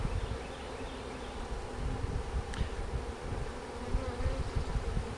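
Honeybees buzz around a hive in a continuous, close, moderately loud hum with the occasional individual bee drifting past, no voices.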